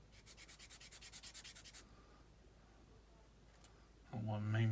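Sandpaper is rubbed back and forth on a small scale model distributor part, about a dozen quick rhythmic strokes close to the microphone, then quiet handling and a louder voice at the end.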